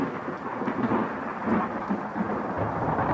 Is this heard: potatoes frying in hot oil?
no